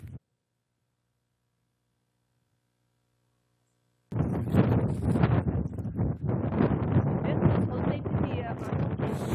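Heavy wind buffets the microphone with loud, continuous rumbling gusts after about four seconds of near silence.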